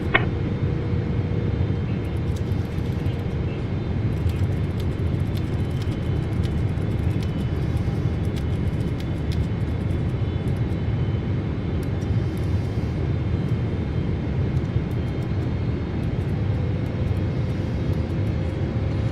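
Steady broadband engine roar of a FedEx airliner on final approach and landing in Microsoft Flight Simulator 2024, a constant loud rumble with a faint tonal whine holding throughout.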